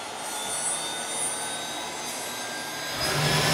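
A steady turbine-like whine and rushing roar from a jet turbine engine in a jet car, spooling up as fuel is introduced, holding even and then swelling louder near the end, with no talking.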